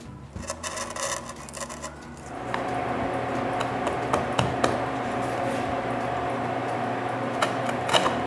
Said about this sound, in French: Pour pouvoir vider mon liquide de nettoyage, je sculpte une petite rigole.